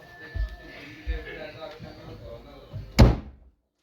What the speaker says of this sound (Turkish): Kapıyı kapattım.